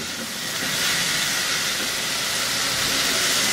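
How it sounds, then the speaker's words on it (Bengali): Shredded cabbage stir-fried in a hot pan for mapo cabbage noodles gives a loud, steady, broad sizzling hiss that runs unbroken throughout, with no talking over it. "এর সাথে একটু নেড়ে চেড়ে নিব, পাতাকপিটা একটু নরম হওয়া পর্যন্ত।"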